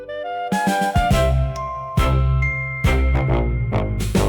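Bright bell-like notification chimes ring out in a quick sequence of struck tones, each decaying with a shimmering ring, loud and alone with no speech.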